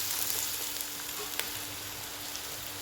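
Sliced onions for chicken biryani sizzling in hot oil, a steady close hiss with light crackle over the full few seconds, no voices.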